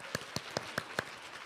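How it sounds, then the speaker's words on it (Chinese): Five crisp hand claps land at an even, deliberate pace, close and distinct, followed by a quiet room. "鼓掌一下"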